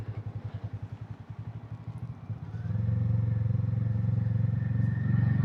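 A 2026 Hero Hunk 440 motorcycle rides in second gear at an easy pace, a low, pulsing engine thrum heard close that steadies and grows louder, with no talking.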